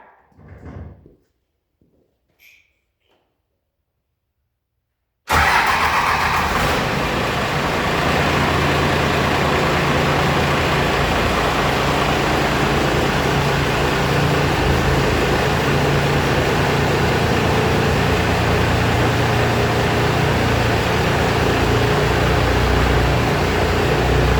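A C50 truck's engine fires up suddenly after a few quiet seconds, then runs at a steady, loud idle with a constant rumble.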